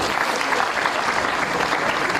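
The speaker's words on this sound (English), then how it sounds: "I think we can clap better." Students at a university matriculation ceremony applaud in a steady, even wash of many hands clapping, moderately loud and continuous throughout.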